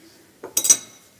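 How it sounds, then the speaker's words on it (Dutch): A knife drawn lengthwise through raspberry sauce on an unbaked cheesecake, a short soft scrape followed by a few light metallic clinks of the blade against the dish, close and isolated in near silence. "En vervolgens ga ik met een mes in de saus en trek ik er in de lengte een streep doorheen."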